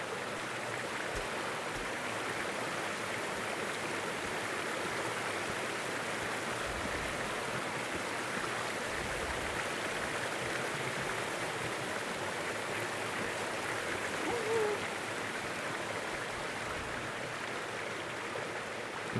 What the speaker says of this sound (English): We're going to go check out this waterfall.